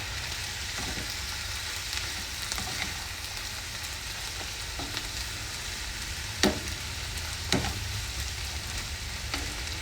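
Mushrooms with garlic powder and garlic salt sizzle steadily in a pan over medium heat, a continuous frying hiss broken by a few sharp utensil clicks as they are stirred.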